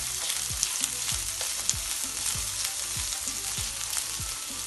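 Onions frying steadily in two tablespoons of oil for a chicken pizza roll filling: a dense, continuous sizzle close up, with a few low knocks and scrapes running beneath it and no voices.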